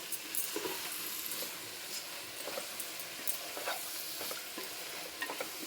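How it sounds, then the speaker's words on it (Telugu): Boti curry stirred in a hot pan, with a constant sizzle and frying hiss under repeated scraping strokes of the spoon, close and steady, with no talking. "బాగా కలుపుకోవాలా, పచ్చివాసన పోయేలాగా కలుపుకొని"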